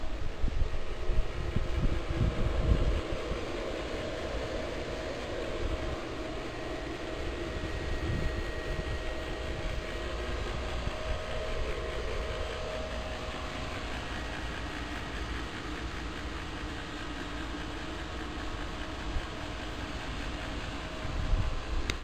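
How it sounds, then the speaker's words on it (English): Pool pumps run at a residential pool open to the weather, heard during a home inspection in Richardson, Texas: a steady, continuous mechanical drone and whir that holds at an even level throughout, with no talking. "The pumps are currently running, and we're looking to see if we have any leaks at any point."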